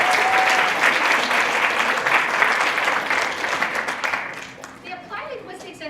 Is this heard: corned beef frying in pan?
no